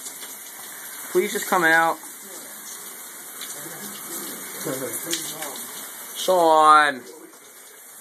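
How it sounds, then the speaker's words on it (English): A shower runs with a steady hiss of falling water throughout, while voices speak over it in two louder bursts. "Just come out of the shower."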